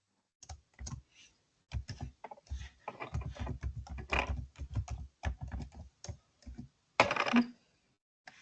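Someone types on a computer keyboard into a text editor, a quiet, close run of irregular key clicks in short bursts with brief pauses and one sharper clack.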